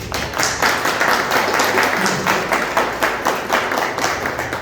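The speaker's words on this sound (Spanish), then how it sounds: "Y le damos un aplauso." An audience at a book presentation applauds with loud, continuous clapping that carries on steadily throughout.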